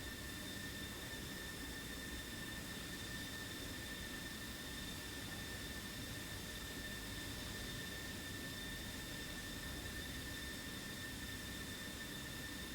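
F-16 fighter jet engines roar in the DCS combat flight simulator, a steady, loud whine and rush with high-pitched tonal squeals held constant throughout, no voices.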